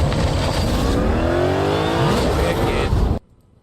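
A 5.2-liter supercharged V8 in a Ford Mustang GTD revs loudly with a roaring, rising engine note that holds steady and then cuts off abruptly into near silence.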